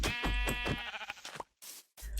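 Blocky Minecraft sheep bleats in a rapid wavering run of several pulses, loud and close, followed by a pause and a couple of short game sound bursts.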